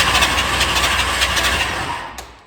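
An engine in winter storage being cranked over for a quick roll, a steady rhythmic churning for about two seconds that winds down, close and fairly loud, without speech.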